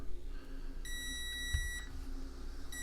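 Electronics in a Tamiya TD4 Super Avante RC car chassis give a single short high-pitched beep tone about a second long when switched on, close by, over a low steady background hum.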